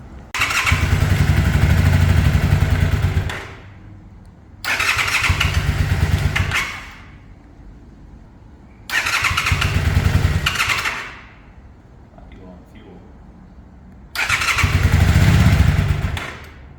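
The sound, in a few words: Honda VTR250 motorcycle engine starting and running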